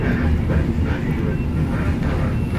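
Rumbling train on track 3 at an Indonesian railway station, a steady low rolling drone with faint squeal and voices talking in the background.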